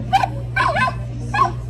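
A Build-A-Bear sound module plays a recorded puppy bark: three short yipping, whimpery bursts, loud and close, over a steady electronic hum.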